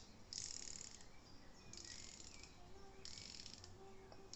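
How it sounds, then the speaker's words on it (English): The ceramic dive bezel of a Seiko Marine Master 300 (ref. 023) clicks as it is turned, in three short ratcheting runs, faint and close against a quiet background. "Bezel action, probably my favourite."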